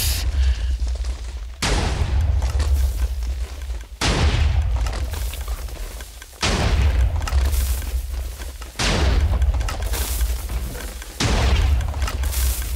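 Potion cannon in Minecraft firing over and over at long range, five loud booming blasts at roughly two-second intervals, each followed by a rumbling tail, with no talking.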